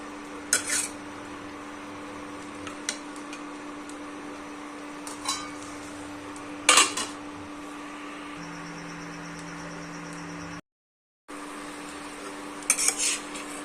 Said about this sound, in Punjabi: ਕਰੇਲਿਆਂ ਨੂੰ ਚੰਗੀ ਤਰ੍ਹਾਂ ਮਿਕਸ ਕਰ ਲਾਂਗੇ